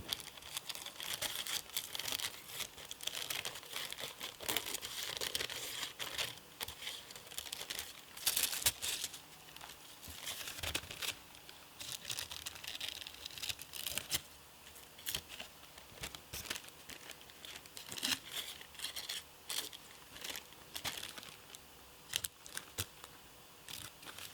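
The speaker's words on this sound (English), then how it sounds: "We'll take your scissors and trim it up." Scissors snip and crinkle through thin tissue paper covering a model, nearby, with steady rustling and irregular cutting sounds throughout and no voices.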